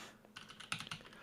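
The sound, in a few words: typing on Monstargears Classic TKL keyboard, aluminum top mount, Oolong switches, GMK Birch keycaps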